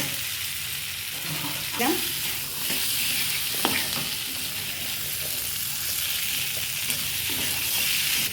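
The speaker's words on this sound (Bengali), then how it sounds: "ভালো করে কষিয়ে নিচ্ছি" Egg curry masala sautéed and stirred in a pan: a constant frying sizzle with occasional spoon scrapes and taps against the pan.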